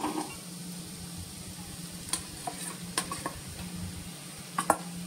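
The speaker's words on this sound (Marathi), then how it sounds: "आणि आता त्याच्यावरती ही जी आपण वाटलेली डाळ आहे, ही वाटलेली डाळ त्याच्यावरती घालायची आहे" Ground lentil paste (vatli dal) is added to a hot pan and stirred, giving a low, steady sizzle with a few sharp clinks of a utensil against the pan, fairly faint and close.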